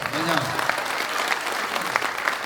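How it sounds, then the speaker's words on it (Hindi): Audience applause at a live Hindi comedy poetry show (hasya kavi sammelan), a steady, dense wash of clapping from a crowd filling the whole stretch, with a brief voice at the start. "एक बात हमारी स्पेस एजेंसी इसरो के लिए जोरदार तालियां बजाओ।"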